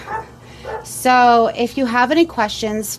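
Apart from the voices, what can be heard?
dog barking at a neighbor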